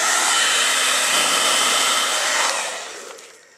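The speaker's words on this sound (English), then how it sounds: "just go ahead and use your hair dryer and then blow dry the latex to make it dry a lot faster" A hair dryer blows steadily at close range while drying a latex layer, a loud, even whooshing hiss that starts to fade in the final second as it is switched off or moved away.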